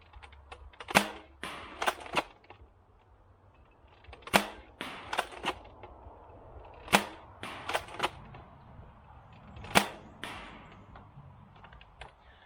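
Toy blaster shots fired at a 60-foot target on a range, about a dozen sharp snapping cracks in irregular bursts, crisp and close against a quiet outdoor background with no talk.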